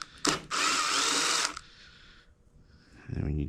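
A power drill whirs loudly for about a second, driving out a screw during a rebuild of an Atomic Fireball Stella, with a brief quieter tool noise afterward and a low voice near the end.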